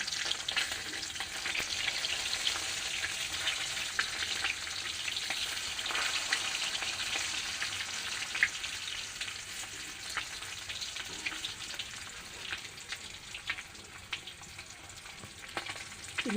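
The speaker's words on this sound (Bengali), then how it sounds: "এইভাবে আমি মাছগুলো এক এক করে ভেজে নেব।" Pieces of fresh fish fry in hot oil in a pan, giving a continuous, moderately quiet sizzle with faint spatters and pops and no talking.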